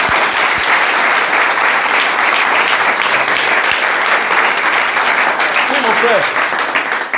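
A church congregation applauds loudly and steadily throughout, with a voice speaking over the clapping near the end.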